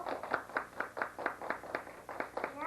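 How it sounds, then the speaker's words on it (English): Claps from a school event audience for the day's speakers: a steady run of sharp, evenly spaced hand claps of moderate loudness, sounding like one nearby person clapping amid a quieter room. "Let's have a warm hand of applause for all our speakers today."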